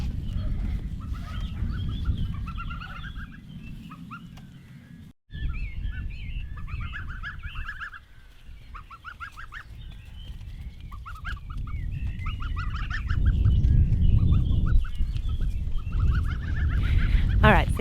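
A small flock of geese, about three birds, honks and calls repeatedly in uneven bursts over steady outdoor rumble, the calls loud and close and louder toward the end.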